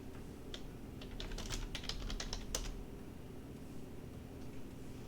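Keyboard typing over an open voice chat during an online tabletop game session, a quick burst of close key clicks in the middle against a steady low background hum, then fading to quiet hiss.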